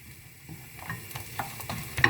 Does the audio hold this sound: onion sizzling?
yes